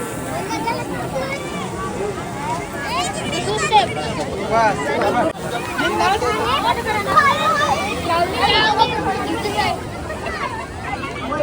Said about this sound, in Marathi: ही बघा मित्रांनो सातपाटीची गर्दी पूर्ण